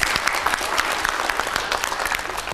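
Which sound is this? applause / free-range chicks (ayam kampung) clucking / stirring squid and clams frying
applause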